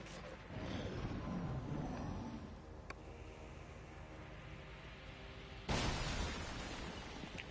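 An explosion in the video game XCOM 2 erupts as a loud burst, its noisy rumble slowly tailing off before a second sharp blast of debris and noise hits near the end.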